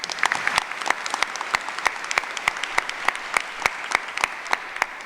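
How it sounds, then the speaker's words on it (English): A room full of people claps steadily at an honors convocation, a dense patter of many hands with sharper individual claps standing out, fairly close and sustained throughout. "Round of applause"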